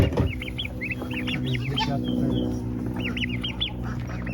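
Chickens cluck in quick, repeated bursts, several birds at once, against a steady low background hum.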